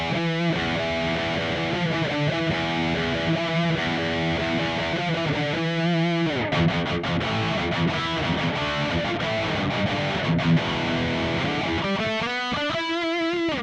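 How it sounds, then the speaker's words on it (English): Loud, heavily distorted electric guitar on a MOOER GTRS intelligent guitar's heavy metal preset plays continuous chords and riffs, dense and sustained throughout, with brief gaps and a rapid picked flourish near the end. "We have the heavy metal preset."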